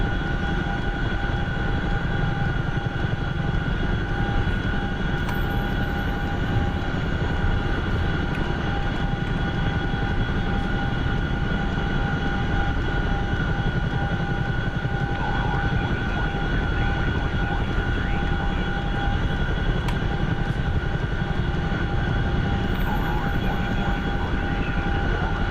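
Small airplane in flight on approach to an airfield runway, a loud continuous engine drone with a steady hum that stays constant from start to finish, no talking.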